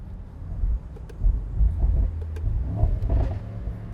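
A 2024 Mercedes SL63 AMG with a 4-liter engine rumbles low and close, its exhaust note swelling in a few throttle surges under some wind buffeting, with no voices.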